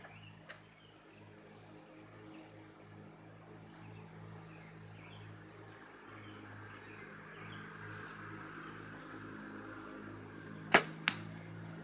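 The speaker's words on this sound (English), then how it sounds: "the bag has no problem stopping the arrows" Arrows strike an archery bag target outdoors in the Adirondacks, two sharp thuds in quick succession near the end, following a long stretch of faint, steady background hum.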